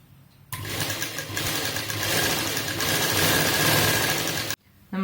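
A sewing machine stitches kurti fabric down the centre with a long stitch length, a loud, steady, close whir that runs for about four seconds and then stops abruptly.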